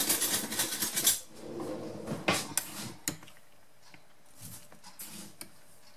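A large spoon scooping sugar for a quick chocolate cream, giving a run of gritty scrapes and light metallic clinks up close, loudest early then thinning to a few scattered taps.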